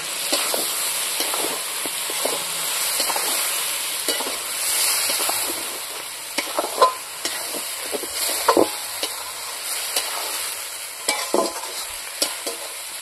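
Dry chilli paste and chopped tomato frying together for a village-style mutton leg-piece curry, a steady broad sizzle with occasional stirring clinks and scrapes throughout, fairly close.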